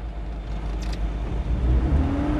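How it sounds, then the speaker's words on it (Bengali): Manual car creeping slowly backward in reverse gear, a steady low engine hum and whir from close by, with a faint rising whine toward the end. "এখন পিছন দিকে চলতেছে, একদম আস্তে আস্তে চালাচ্ছে গাড়ি।"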